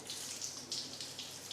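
Water sheets off a car body coated with K2 Gravon nano-ceramic coating during a rinse, a steady close hiss of running and splashing liquid with no voices.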